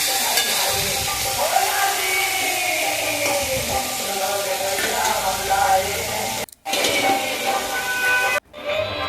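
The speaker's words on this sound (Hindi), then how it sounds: "अब आलू को डाल देंगे और आलू के डालने के बाद अच्छे से मिक्स करेंगे" Potatoes tossed into frying kheksi (spiny gourd) vegetable in a pan and mixed, giving a continuous sizzle with stirring clatter, briefly interrupted by short gaps near the end.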